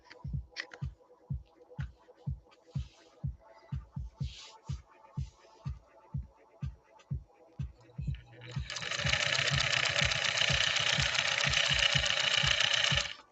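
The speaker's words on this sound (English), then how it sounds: "listen to Debbie Brown's 130-6" A 1950s Pfaff 130-6 sewing machine, repaired after a fall, stitches first in slow separate thumping strokes, then runs fast in a steady loud whir; a voice speaks faintly early on.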